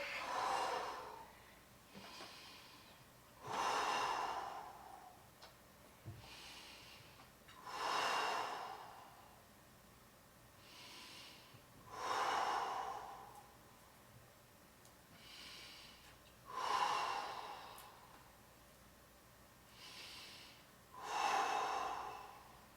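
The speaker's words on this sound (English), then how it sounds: "8 big breaths for me, and go." Heavy, rhythmic breathing from people holding a bear crawl position during a workout, about seven big inhale-exhale cycles spaced a few seconds apart, close and moderately loud with no talking.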